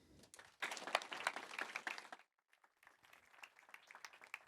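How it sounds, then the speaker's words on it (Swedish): Audience applause for a speaker at a business conference in Sweden, a moderate burst of clapping that cuts off abruptly, then lighter scattered claps resume after a short gap. "Stor applåd till Tom"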